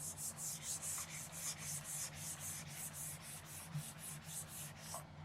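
Steady rhythmic rubbing of paper pressed by hand onto an acrylic-painted gel plate, a soft, close scratchy swish repeating about every third of a second for several seconds, quiet and without talk.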